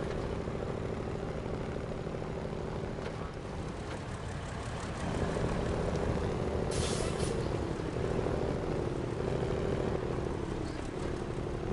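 A truck engine drones steadily while driving in Snowrunner, a low continuous rumble that grows slightly louder midway, with a brief hiss of air near the middle.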